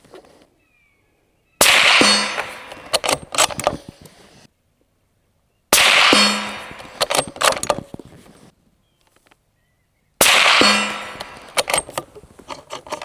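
A Howa 1500 rifle in 7.62x39 fires handloads at steel targets, three sharp loud shots spaced several seconds apart, each followed by ringing clangs and metallic clatter, with near silence between.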